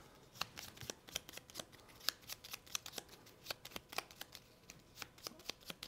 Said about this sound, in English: Then all of these get shuffled back up.